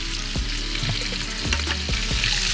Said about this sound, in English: I think we want to brown all 4 sides of this.